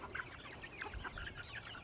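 Many chickens clucking and chattering together at once on a homestead, a steady busy flock murmur at moderate distance.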